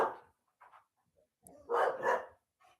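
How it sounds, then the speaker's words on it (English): Dog barking close by in a short burst of yips and barks with quiet gaps between them, including a louder double bark near the end. "There's another dog I think somewhere."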